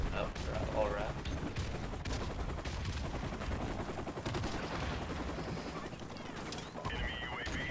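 Rapid gunfire from an AK rifle in a Call of Duty multiplayer match, dense continuous bursts of shots layered with game effects and a voice talking over the action throughout.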